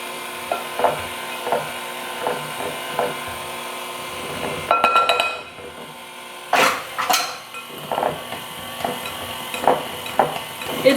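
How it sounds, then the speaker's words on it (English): Mixer stirring shredded carrots into a thick peanut butter mixture: repeated soft thumping and scraping knocks in a steady rhythm, with a short louder clatter partway through, close and without talk. "Turn this back on, and we're gonna just stir in these carrots."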